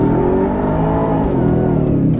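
A 2023 Ford F-150 Raptor R truck's engine revs loud and close, a steady full-throated roar that holds and wavers slightly in pitch throughout, with no talk over it.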